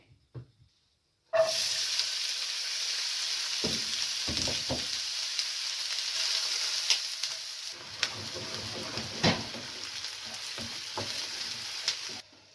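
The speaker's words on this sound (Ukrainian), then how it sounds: "і обсмажуємо цибулю" Oil sizzles and crackles steadily in a hot pan as onion fries, after a sudden start, with occasional soft scrapes and clinks of stirring.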